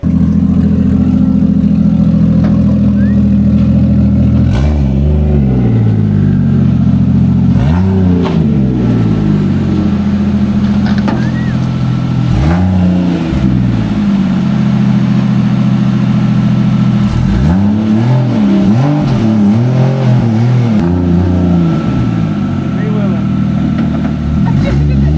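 Nissan G35 drift car engine revving nearby, repeated sharp rises and falls in pitch over a steady loud idle, with people talking throughout.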